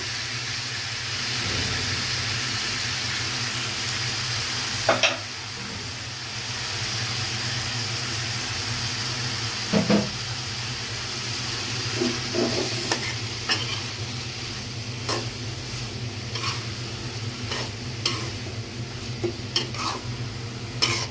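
Lati and prawns fry in a pan with a continuous close sizzle as white mustard paste is added, punctuated by repeated scraping stirs and clinks of the utensil against the pan.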